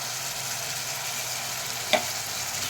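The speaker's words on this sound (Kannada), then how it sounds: "ಸ್ವಲ್ಪ ಹುರಿ." Green chillies and spices frying in a pan for methi leaf kootu give a steady, even sizzle throughout, with one brief utensil clink near the end.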